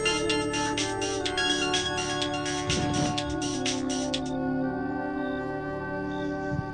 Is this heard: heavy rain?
no